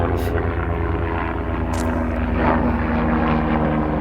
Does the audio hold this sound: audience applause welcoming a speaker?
no